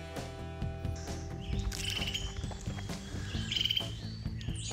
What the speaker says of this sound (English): the mom is up here somewhere tweeting away about it